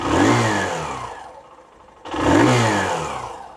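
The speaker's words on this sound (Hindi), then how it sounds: "थ्रॉटल देता हूँ" Hero Super Splendor Xtec motorcycle engine revving hard on the throttle, two loud close bursts separated by a brief drop to a quieter idle, with no talking.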